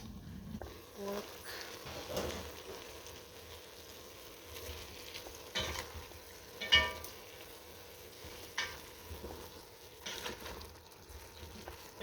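Pork frying in a pot gives off a quiet, low sizzle, broken by intermittent clunks and scrapes as it is stirred, heard close up at a soft level.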